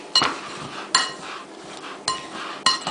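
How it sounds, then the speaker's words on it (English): A pastry tool presses and twists through butter for a peach blackberry crisp topping, giving four sharp metallic clinks against a bowl at uneven intervals, with a light scraping rustle in between. "Just press and twist until you've broken up all the bits of butter."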